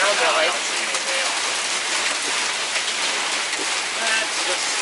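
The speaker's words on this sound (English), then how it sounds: "I think it's just a lot of rain around." Heavy rain pours steadily during a storm, a dense, constant hiss of drops drumming on surfaces nearby with no pauses, loud and uniform throughout.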